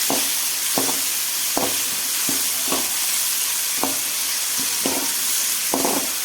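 Peanuts cooking in a pan on a low flame, a steady soft sizzle with a spoon scraping and stirring in regular strokes about once a second, close up with no talking.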